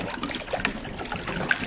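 Water is poured to rinse a funnel while making apricot mead, a steady close trickle and splash with a couple of brief clinks of the funnel.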